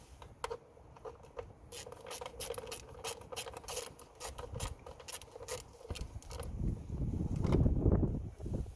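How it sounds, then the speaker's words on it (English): A ratchet clicks rapidly while an 8mm bolt is tightened on the camshaft position sensor of a BMW Mini Countryman Prince engine, close and quiet, ending in a louder handling rumble. "8mm bolt to secure it."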